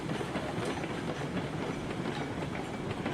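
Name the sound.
Ruby Basin locomotive running on rails, from video game RailRoads Online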